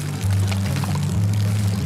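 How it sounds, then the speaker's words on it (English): Clear pond water pumped up and out of an outlet hose through flap valves gushes and pours steadily for the whole clip, over a constant low pump hum, with no voices. "You'll see that now it's clear water coming out and being pumped."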